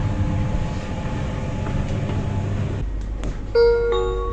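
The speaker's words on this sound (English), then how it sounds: "So then, I now take this train across the border into Germany" A Luxembourg company train heading toward Trier rumbles along steadily from inside the carriage. The low rolling noise then drops away, and a two-tone electronic chime rings out near the end.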